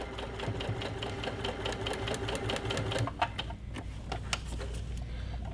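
A sewing machine with a universal needle stitches fabric in a fast, steady mechanical chatter, close and clear, easing off toward the end.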